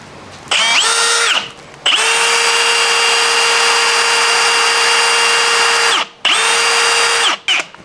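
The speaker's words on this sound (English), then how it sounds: "Oh, that is not sharp. I need a better Forstner bit." A power drill fitted with a dull Forstner bit bores into wood in close, loud bursts: one short run, a long steady whine of about four seconds, then a brief run and a quick final blip.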